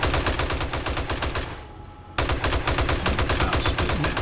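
M60 and SMG turrets hammer out sustained automatic fire during a Blood Moon horde in 7 Days to Die, a dense rapid stream of shots that drops out briefly before resuming at full loudness, with no voices.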